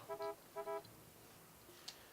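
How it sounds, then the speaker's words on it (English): Two short bursts of a car horn in the stealth game Hitman 2: Silent Assassin, a doubled honk followed by a second doubled honk, moderately loud over a quiet game background. "Honk the horn."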